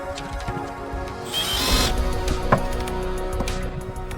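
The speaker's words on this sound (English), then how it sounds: "When installing drawer slides, I like to pre-drill before installing the screws." A power drill whirs in short bursts driving screws into wood for cabinet drawer slides, with ratcheting clicks and mechanical grinding, close by, with a brief sharper knock partway through.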